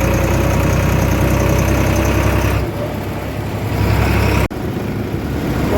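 Several tractors idle together at a roadside stop outside a hotel, a loud, steady low diesel rumble with knocking vibration that briefly dips midway, close and continuous without talk.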